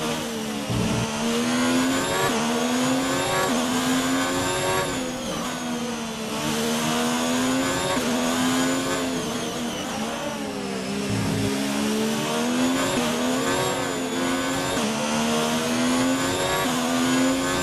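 Formula 1 race cars in the video game F1 2019 drone continuously at high revs, their engine whine rising and falling through gear shifts during an online race's final lap, loud and steady throughout.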